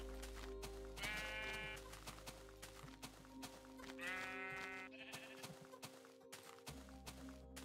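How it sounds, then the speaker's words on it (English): Sheep in the Minecraft video game bleat twice in quick, nasal wavering calls, set against a steady droning game soundtrack with soft footstep-like taps, no voices. "Sheep."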